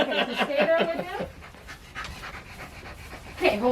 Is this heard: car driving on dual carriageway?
no